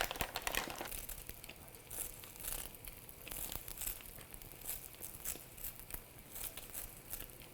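Sheets of dried Korean seaweed (kim) being handled and torn by hand, a close, continuous crinkling and rustling with sharper tearing crackles, no talking.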